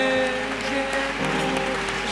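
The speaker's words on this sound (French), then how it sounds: "Let's clap for Jesus" Church congregation applauding for Jesus Christ during a worship gathering, a steady dense wash of hands clapping throughout with music tones sustained underneath.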